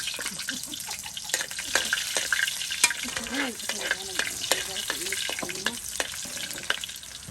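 Garlic fries in a pan while being stirred, with frequent sharp scraping clicks over a moderate sizzle; there are faint watery, faucet-like sounds in the background and nobody talks.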